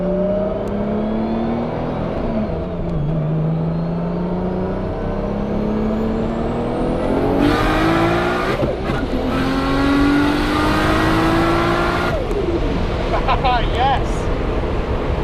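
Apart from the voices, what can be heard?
Nissan GTR turbo flutter while accelerating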